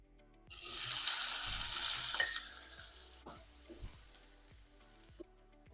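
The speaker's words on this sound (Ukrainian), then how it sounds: "До розтопленого смальця додаю цибульку." Onion hits hot melted lard in a pan with a sudden loud sizzle that holds for a couple of seconds, then settles into a softer crackle with light clinks of a utensil against the pan.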